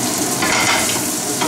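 Chives and cha shiu are tossed in a hot frying pan, giving a loud, continuous sizzle and scraping rustle close up.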